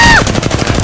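A short, loud burst of rapid automatic gunfire from Apex Legends, roughly eight quick shots in an even rhythm, close and dry, with no talking.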